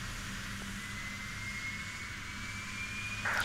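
A Rolls-Royce RB211 jet engine spools up on a Boeing 757-200 in the X-Plane 12 flight simulator, a steady roar with a thin whine climbing slowly in pitch, then swelling louder at the end.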